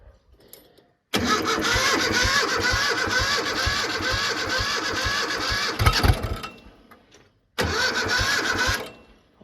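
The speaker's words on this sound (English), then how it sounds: "Let's give the little Yanmar a start first" Small Yanmar diesel tractor engine cranking and catching, running loudly for several seconds, dropping off, then a second shorter start close by.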